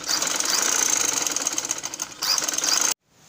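A sewing machine runs fast and steadily while stitching a one-year-old's summer baby frock, a loud whirring buzz that pauses briefly, then resumes and cuts off abruptly.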